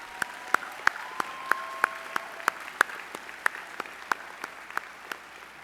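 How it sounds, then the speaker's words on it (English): Sparse, fairly quiet hand claps ring out in a roomy space at a student commencement ceremony, a few people clapping at a slow, uneven pace. "give them a round of applause"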